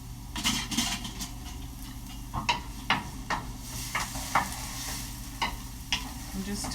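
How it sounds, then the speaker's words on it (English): Onions being tossed and stirred in a hot pan while they sweat, a run of sharp utensil scrapes and knocks against metal over a steady sizzle, irregular and close. "I'm just tossing my onions a little bit"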